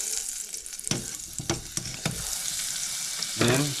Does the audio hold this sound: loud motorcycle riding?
no